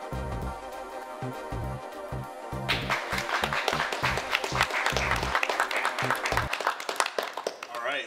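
Audience applause and cheering for a painter and guest on a couch-style talk show, starting with rhythmic music and a swell of clapping that fills the room midway and carries on loudly to the end.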